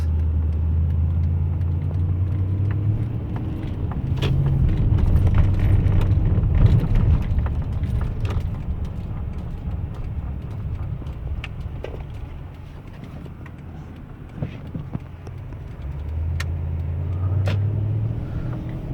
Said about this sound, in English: Come to a stop sign, car brakes the way it should.